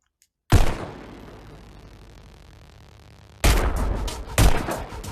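Gunshots in the VR rhythm shooter Pistol Whip, a sharp single blast with a long decaying tail, then a tight cluster of booming shots near the end, loud and close.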